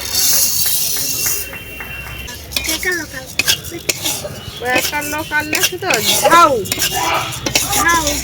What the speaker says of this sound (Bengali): মুগের ডাল হালকা করে তেলের মধ্যে মেরে ভেজে নিয়েছি